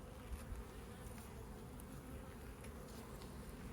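Honey bees buzzing at a swarm trap, a continuous close, dense hum of many bees that holds steady and soft throughout.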